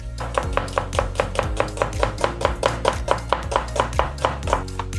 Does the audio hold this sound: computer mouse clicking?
no